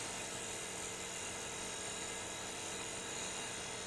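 A wood lathe spins steadily while a tenon is turned on a wooden finial, producing a constant close whirring drone with a faint high whine, no voices.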